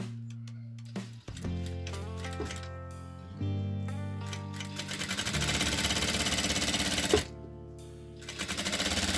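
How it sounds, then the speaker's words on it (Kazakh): A sewing machine stitches one end of fabric up to a notch. It starts and stops, then runs in a fast, loud, continuous mechanical chatter, pauses briefly, and resumes close by. "Енді сол кертікке дейін бір басын тігіп шығамыз."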